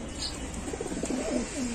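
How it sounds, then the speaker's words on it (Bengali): Pigeons at a pigeon market give a short series of soft, low cooing calls over background murmur and noise. "আমরা আরেক জোড়া কবুতর দেখাচ্ছি আপনাদের"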